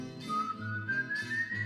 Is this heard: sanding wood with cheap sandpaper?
no